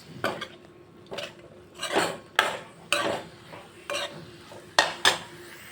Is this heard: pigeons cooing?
no